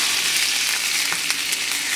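Fresh salmon searing in a hot pan gives a dense, steady sizzle with a few sharp pops and crackles, close and continuous.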